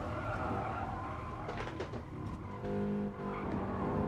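A Fiat 500 Abarth braking hard on the Nürburgring, its engine note dropping under heavy deceleration amid dense, loud road and wind roar heard from inside the car, without any talk.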